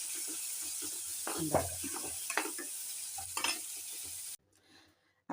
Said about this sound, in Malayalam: അപ്പോൾ കടുക് വറുത്തു.